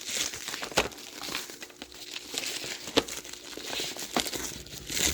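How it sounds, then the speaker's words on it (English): Crinkly plastic packaging from a 3D printer accessory box being unwrapped: soft, close crinkling and rustling with sharp crackles and pops scattered through, fairly quiet throughout. "gonna have to stop to unwrap this"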